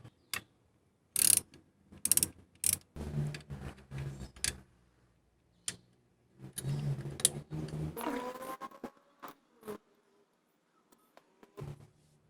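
A ratchet wrench clicks in short bursts while loosening the alternator bracket bolt on a 2014 Kia Cerato, close and crisp ratcheting with pauses and a few metallic knocks between turns.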